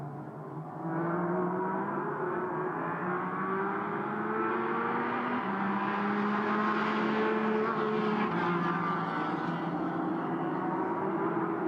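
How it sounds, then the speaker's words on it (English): Several GT4 race cars roar continuously around the Beijing circuit during SRO GT Cup pre-qualifying, engines revving and shifting up and down, with echoing engine noise building and overlapping at moderate distance. "noise and echoes of GT4 cars around Beijing as cars head back out onto circuit"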